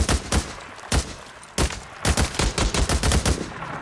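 Repeated gunshots from the video game Days Gone, loud sharp reports coming singly at first, then in a rapid burst of close-spaced shots toward the end, with no talk over them.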